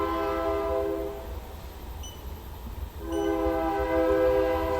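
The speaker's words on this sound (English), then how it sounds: "wait a minute for this train" A train passes near a workshop, sounding its horn in two long blasts separated by a brief gap, the harmonic tone loud and steady over a low rumble.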